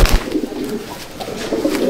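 Loft pigeons in Barrackpore, North 24 Parganas, coo steadily and close by, a thick overlapping murmur from several birds with no voices.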